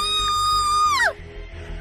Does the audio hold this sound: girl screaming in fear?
yes